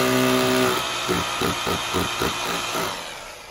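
A power drill bores into a wall to mount a Jio AirFiber outdoor unit bracket, a motor whine first and then a rapid pulsing hammer rhythm close by that fades out.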